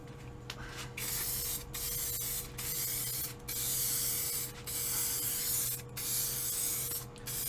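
Lacquer finish sprayed on as a third coat, heard as a series of steady hissing bursts, each about a second long, separated by brief pauses over a low background hum, with no talking.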